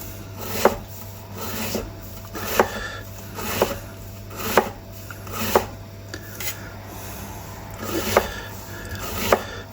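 A sharp knife chopping on a board while mushroom ravioli are prepared, a slow, regular series of crisp close knocks about once a second over a low steady hum, with no voices.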